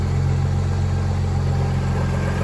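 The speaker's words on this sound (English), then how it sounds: "she's idling perfect. Man, listen to that." A 2.7T car engine fitted with a plug-in Link ECU idles smoothly and evenly up close, a steady low hum with no change in revs and no voices.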